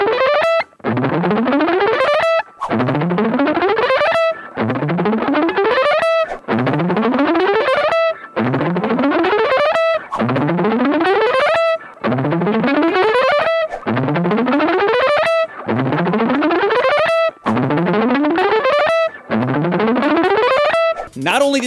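Distorted electric guitar, tried out with a series of different picks, plays the same rising riff about ten times in a row with short gaps between passes, loud and close, and no talking.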